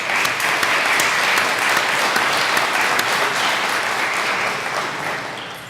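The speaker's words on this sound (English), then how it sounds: "Give yourselves a round of applause for looking so fabulous." A large audience at a university salute event applauds steadily and loudly, a dense wash of clapping lasting several seconds and fading slightly at the end.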